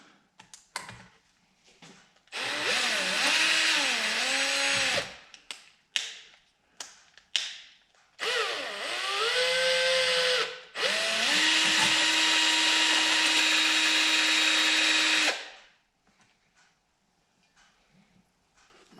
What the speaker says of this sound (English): what I'm using is magnet on a screw and a drill